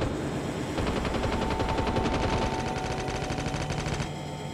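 Rapid automatic gunfire from Call of Duty Mobile, a dense continuous rattle of shots at steady volume that cuts off near the end, with no talk over it.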